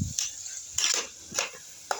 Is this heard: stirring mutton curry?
yes